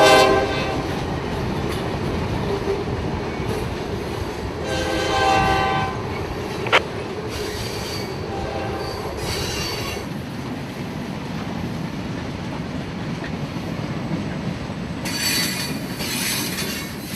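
A mixed freight train, Q603, passes at trackside in Lakeland, Florida. Its horn sounds in several blasts over a continuous loud roar of rolling wheels, with rattling cars and some squeal throughout.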